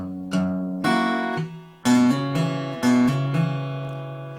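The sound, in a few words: acoustic guitar playing an intro riff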